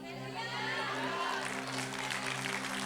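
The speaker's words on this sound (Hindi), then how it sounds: "ताली तो बजा दी" A church congregation at a Sunday sermon applauds, a dense, even patter of many hands clapping throughout under a sustained hum, no clear voices.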